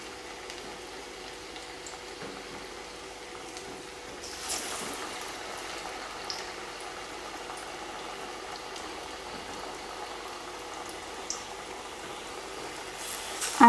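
Cassia tora leaf masala vada fry in hot oil, a steady soft bubbling and crackle that thickens partway through, with occasional louder pops.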